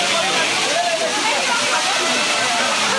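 Ghatarani Waterfall pours with a dense, continuous rushing roar heard from close by, with the water noise steady throughout.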